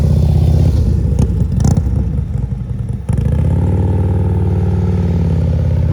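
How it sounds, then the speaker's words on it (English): A Harley CVO motorcycle idling and rolling at slow speed with the throttle held steady, giving a loud, even low engine rumble close by, broken by a brief rougher clattering stretch in the middle. "You see how you hear his throttle? That's what you want to hear."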